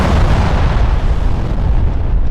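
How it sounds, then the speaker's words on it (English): A heavy boom like a cannon shot merges into crashing, crumbling debris as a town gate gives way, a dense, loud, sustained rumble with no voices. "First, the boom crack of a cannon shot, and next the crash and crumble of the town gate"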